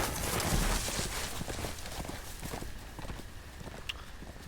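Horse hooves clip-clop in a Game of Thrones video game, a steady run of soft hoof falls under ambient game sound, fading slightly toward the end.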